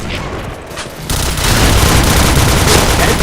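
Dense automatic gunfire in a shooter video game starts moderately loud, then swells into a louder, continuous burst of rapid shots that crowds out everything else.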